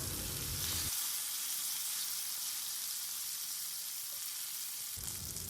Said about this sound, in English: we will flip the fish pieces and fry them until they are golden brown from both the sides